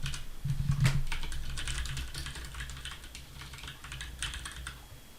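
Keys on a computer keyboard are tapped in a quick, irregular stream of soft clicks, close and fairly quiet, with no talking.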